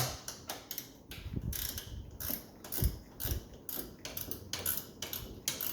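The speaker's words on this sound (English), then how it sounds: "undo the power steering bracket. So there's 3 bolts." Ratchet wrench clicking in quick bursts as bolts on a power steering bracket of a Nissan G35 are undone, several separate runs of close metallic ticking with short pauses between them and no talk.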